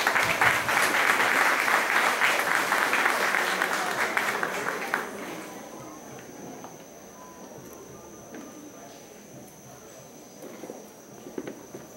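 An audience claps to welcome a speaker at a teachers' training event, with loud steady applause for about five seconds that dies away into a quiet room with faint shuffling and a few stray sounds.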